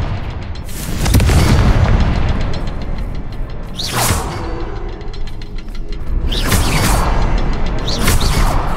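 Confringo spell explosions in Hogwarts Legacy: several heavy booming blasts with whooshing sweeps, loud and close, spaced a few seconds apart over a constant rumbling game-sound background.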